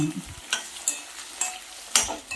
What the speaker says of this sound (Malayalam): ചെറിയ ഉള്ളിയും കൂടെ ചേർത്ത് കൊടുക്കാം എന്നിട്ടൊന്ന് ഇളക്കി കൊടുക്കാം